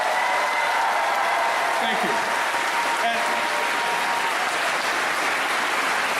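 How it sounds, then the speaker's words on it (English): Dense, steady applause from a convention panel audience fills the room throughout, loud and continuous, with a brief spoken thanks heard over the clapping. "would you give a great big round of applause for these guys?"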